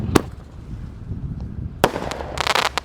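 Firecrackers set off inside the ground burst with a sharp bang near the start, then a second loud blast after a pause, followed by scattered crackling pops and rustling debris, heard outdoors without talk.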